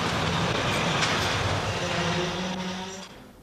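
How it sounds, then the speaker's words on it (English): Automatic Post Office mail train rumbling through its tunnel beneath London, a steady loud rolling roar with faint rhythmic wheel clatter that gradually fades toward the end. "The Post Office automatic mail train has been running under London since 1927."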